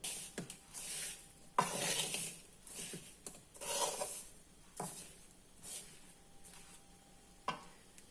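Oil-mango pickle is stirred in a pan on a stove over low flame, with repeated soft scraping and rubbing strokes of a spoon against the pan in an irregular rhythm, quiet and alone.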